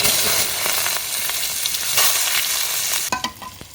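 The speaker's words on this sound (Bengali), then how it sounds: "এই তেল দিয়ে দিয়েছি এবার দিয়ে দেবো তেজপাতা" Bay leaves drop into hot oil in a village kitchen pan, a dense loud crackling sizzle that holds steady, then tapers and sputters in short bursts near the end.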